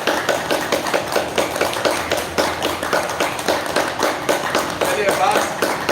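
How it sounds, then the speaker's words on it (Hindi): Fast, steady hand clapping with open fingers during a yoga exercise, the sharp claps repeating rapidly and evenly throughout at close range. "उंगलियों को खोल लें और तेजी से ताली बजाएं।"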